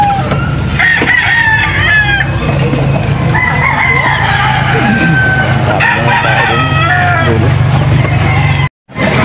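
Sweater Kelso chickens at a market in Pampanga, loud and close, with a rooster crowing over steady clucking and cackling from several birds, and people talking now and then underneath.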